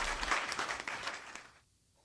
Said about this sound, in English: So everybody Luke, give Rick a round of applause